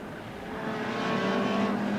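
Saloon race cars in the 1984 Shell Oils Saloon Car Pursuit at Brands Hatch, engines roaring in a steady, blended drone that swells louder as the pack sweeps closer along the track.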